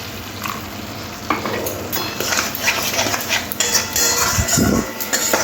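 Fish masala with mustard is stirred in a pan, a spoon scraping and clinking against metal over a steady loud sizzle of frying oil, with no talk.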